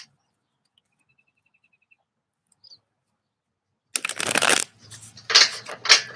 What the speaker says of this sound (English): I would love to throw you a card, Nezuko.